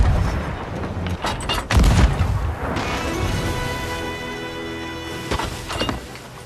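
Cannon fire striking a ship in the Sea of Thieves pirate game: loud booming impacts and splintering crashes in a quick cluster, then heavy creaking wood and rumbling, with another burst of hits near the end.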